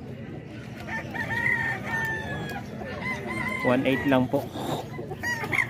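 White Peruvian roosters and chickens crowing and clucking at a fowl sale, several crows rising over a busy mix of clucks, with people talking throughout.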